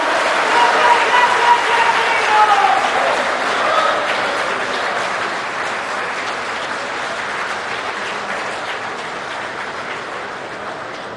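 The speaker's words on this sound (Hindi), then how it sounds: "करतल ध्वनि तालियां बजाकर स्वागत करिए इस ऐतिहासिक पल का" A large crowd at the BJP headquarters applauds steadily to welcome PM Modi, a dense sustained roar of clapping that slowly fades over about eleven seconds. Faint voices are mixed in underneath.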